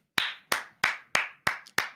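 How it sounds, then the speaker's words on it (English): One person claps slowly and deliberately six times at a steady, even pace, close and crisp, with no talking. "Round of applause."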